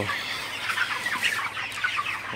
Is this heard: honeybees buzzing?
no